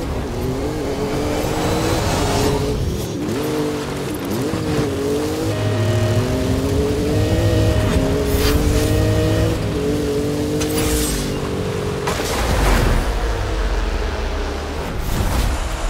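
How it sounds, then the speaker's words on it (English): Nissan GT-R engine in a racing video game, a loud, steady revving drone that climbs and dips through gear changes, with brief impacts near the end and no talking. "This Nissan GTR has near level 10 speeds, and it's one of my favorite vehicles in the game"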